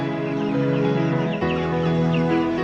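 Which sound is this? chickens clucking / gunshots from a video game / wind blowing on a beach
chickens clucking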